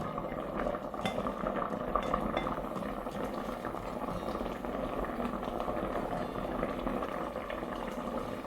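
Pork belly sauce boils and reduces over high heat, giving a steady, soft bubbling and sizzling wash with occasional faint clinks throughout.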